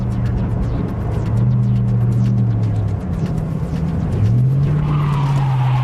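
Police car tires skidding during PIT maneuver training on an emergency vehicle course, long loud tire squeals bending in pitch over a revving engine, close up.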